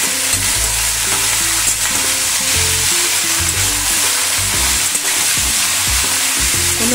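Small tilapia fish and radish fry in a pan while being stirred, giving a loud, continuous sizzle with repeated scraping and stirring strokes throughout, close up and with no talking.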